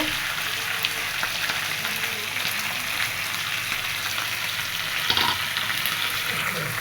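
Potatoes fry with spices in a pan with a loud, close, continuous sizzle, broken by a brief clatter of stirring near the end, with no talking.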